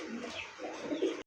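A white Brahma pigeon coos in a soft, low, rolling call, close and fairly quiet, repeating across a short stretch with no talking.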